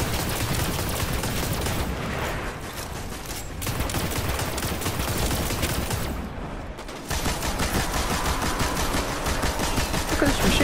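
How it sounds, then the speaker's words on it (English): Sustained machine gun fire in Destiny pours out loud and dense, nearly continuous for about ten seconds with two brief dips in intensity. "Look at this machine gun. It's destroying him."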